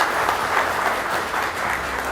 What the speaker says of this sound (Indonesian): Tepuk tangan buat Mbak Grace Natali.